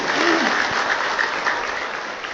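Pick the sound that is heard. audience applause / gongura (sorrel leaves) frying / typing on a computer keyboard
audience applause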